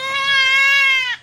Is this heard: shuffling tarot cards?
no